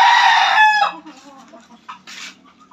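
A broodstag rooster crows loudly and close, then chickens cluck softly in short scattered bursts on a farm, with no talk over them.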